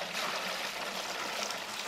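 Water pours in a steady, close trickle into a small cup during a Wing Chun training lesson, a continuous stream without a break and with no talking.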